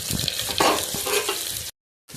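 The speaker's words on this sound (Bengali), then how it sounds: "পেঁয়াজটা আমি দিয়ে দেবো ভাজার জন্য" Chopped onion sizzles in a pan, a loud, dense crackle with scraping stir noises, breaking off into silence for a moment before resuming.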